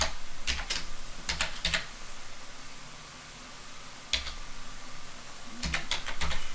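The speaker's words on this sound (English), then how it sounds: "So we're going to type connect" Keystrokes on a computer keyboard entering a router configuration command: short bursts of crisp clicking taps in clusters with pauses between, over a steady background hiss.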